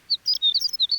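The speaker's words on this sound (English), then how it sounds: "Lark." A lark sings in rapid, high, twittering phrases, about eight bright chirps in close succession, clear and fairly near with a quiet background.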